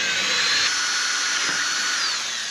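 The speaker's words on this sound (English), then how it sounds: "pre-drilling the fenders." Steady high-pitched whine of a power drill pre-drilling holes in car fenders, running continuously and close without pause, loud and alone.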